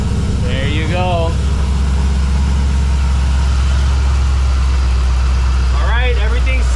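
LSA supercharged V8 engine idling steadily after a supercharger coupler replacement, a loud, even low rumble throughout, with brief voice-like chirps over it.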